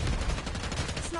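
Sniper rifle fire in Call of Duty Black Ops 6, a short burst of loud, close gunfire cracks over a dense, rumbling game soundscape with no clear pauses.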